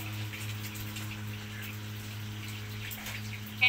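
Steady rain still falling in a wet, windy rural area, a soft continuous patter of drops with a low engine-like hum beneath, no talk.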